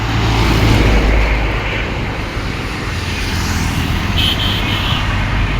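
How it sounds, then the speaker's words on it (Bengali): Traffic rumbles along the Dhaka-Aricha main highway near Gabtoli and Aminbazar, a continuous low roar of cars and trucks with a vehicle passing closer near the end. "এটা মেন হাইওয়ে রোড।"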